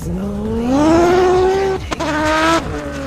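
Rhys Millen's 750 HP V6 race car for Pikes Peak on a rough test course, its engine revving loud and close, pitch climbing then dropping on a shift, with tire squeal and skidding.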